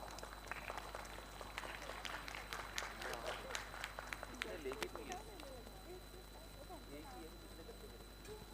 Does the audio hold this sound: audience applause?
yes